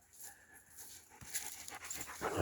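A dog pants rapidly and breathily close by, quick rhythmic huffs growing slightly louder toward the end, with no talking.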